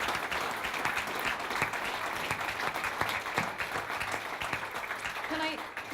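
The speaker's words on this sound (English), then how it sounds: "give them a little round of applause" Audience applause at a university alumni awards ceremony, sustained and fairly soft, a steady wash of clapping that runs for several seconds, with a faint voice starting near the end.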